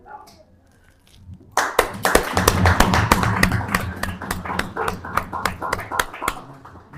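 A church congregation at a Christmas celebration in Kakarvitta, Nepal, claps in welcome. The sharp claps start abruptly after a quiet moment, then continue steadily and fairly loudly in a loose rhythm, close by, with a bit of voice underneath.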